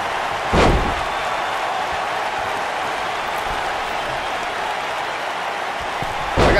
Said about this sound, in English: Oh, guys, there's the slam!